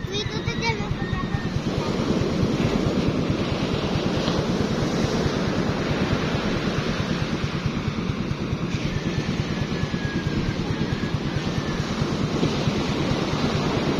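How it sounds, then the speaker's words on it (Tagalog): Waves wash steadily against a shore at Kalbugan, a continuous broad surf roar with wind buffeting the microphone, loud and unbroken throughout, with a faint engine-like hum mixed in. "Medyo may alon pa dito sa tabi."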